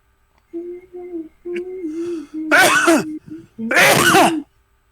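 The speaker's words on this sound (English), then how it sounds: "Sneeze." A sneeze cuts in twice amid ongoing speech during a courtroom-style video game session, each burst loud and close with a sharp, noisy explosion, spaced about a second and a half apart.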